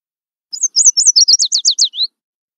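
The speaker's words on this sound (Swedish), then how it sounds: "Fågel." A bird chirps and sings in a quick run of about ten bright, high tweets over roughly a second and a half, close and clear with nothing else around it.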